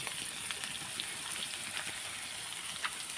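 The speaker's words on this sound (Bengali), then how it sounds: "এটা আমি এখন হালকাভাবে ভেজে নেব" Shrimp frying lightly in a pan during village-style Bengali cooking, with a soft, steady sizzle and crackle that runs on its own without pause.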